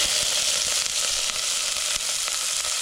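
Spring onion frying in a little oil in a pan, a steady close hiss and crackle of sizzling with faint stirring ticks, continuous and without voices.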